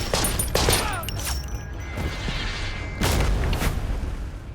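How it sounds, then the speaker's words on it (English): Battlefield gunfire and exploding bombs in the video game Conscript, with loud overlapping shots and booms throughout, a brief high whistling streak early on and a renewed burst of blasts near the end. "Bullets and bombs are dropping all around Andre, and subsequently so are his countrymen."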